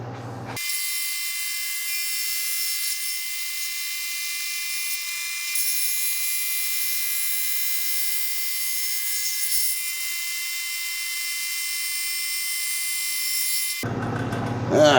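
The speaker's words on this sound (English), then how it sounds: "I'm just going to give it a quick fly cut, just to take any weird ridges out of there" A milling machine fly cutter skims ridges off a metal part, a steady high-pitched whining hum that holds evenly for the whole pass, close and continuous with no talk.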